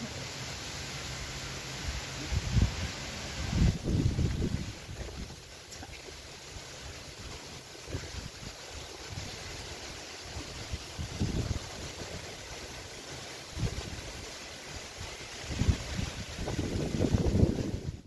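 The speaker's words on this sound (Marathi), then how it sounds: "बघा तुम्हाला येत असेल हवेचा आवाज. मस्त वारा सुटला आहे इथे छान." Wind blowing across the microphone in low rumbling gusts that swell and fade, with a faint steady hiss between them.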